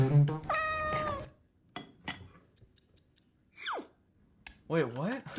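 A domestic cat meows several times, with drawn-out, rising and falling calls separated by short gaps and soft clicks, close and clear with no other sound over it.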